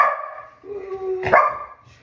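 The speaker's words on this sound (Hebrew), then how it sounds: "היא נובחת." A female dog gives a nearby bark that rises out of a thin, drawn-out whine, with a short yelp tail, loud and alone against a quiet room.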